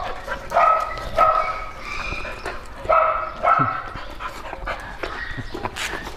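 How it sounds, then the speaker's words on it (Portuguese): Several dogs bark in short bursts, some yips mixed in, moderately loud with outdoor background noise between barks. "Tem uns cachorrinhos ali do outro lado."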